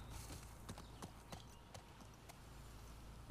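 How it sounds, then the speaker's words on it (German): Horse hooves clip-clopping in The Last of Us Part II, a steady run of crisp, evenly spaced hoof strikes heard close over a low ambient rumble. "Mein Pferdchen."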